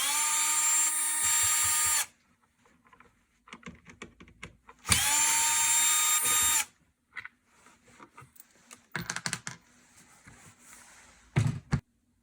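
Two loud bursts of a power driver backing screws out of the battery tray on a Gardiner backpack sprayer, each lasting about two seconds, separated and followed by clicks, taps and handling of parts.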